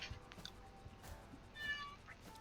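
A pet cat making a little fluttering trill indoors at night, faint and brief, with soft chirpy tones over quiet room noise.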